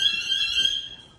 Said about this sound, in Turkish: Duman dedektöründen alarm verdi.